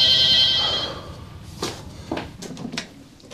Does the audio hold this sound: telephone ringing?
yes